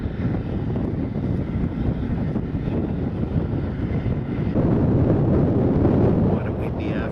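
Wind rushes steadily across the microphone at a beach on a windy afternoon, a loud, continuous roar that swells slightly near the end, with no clear talk.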